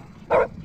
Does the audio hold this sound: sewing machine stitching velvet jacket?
no